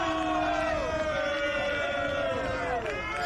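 Spencer supporters in the crowd at a lacrosse finals match voice their displeasure at a referee's whistle, a sustained roar of shouting and booing voices.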